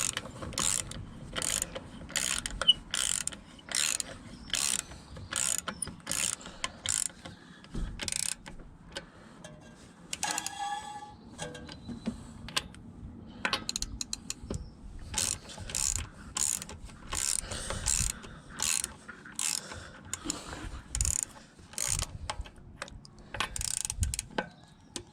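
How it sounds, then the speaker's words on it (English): A ratchet wrench tightens bolts on a Volvo P2 front lower ball joint, clicking in rapid bursts of quick ratcheting strokes with short pauses between runs, close and fairly quiet. "ratchet that on"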